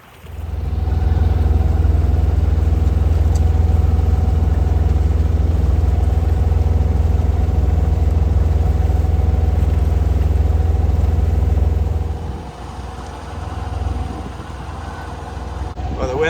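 A sailboat's engine drones loud and steady while motoring along the Costa Brava, a constant low rumble that drops off sharply near the end, leaving quieter wind and water noise.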